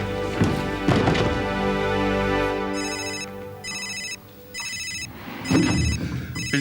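A telephone rings with repeated bursts of a bright electronic trill separated by short gaps, after a few dull thumps at the start.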